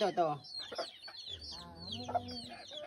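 Chickens cluck in short, choppy bursts close by, mixed in with talking voices, in a backyard where a child is being fed.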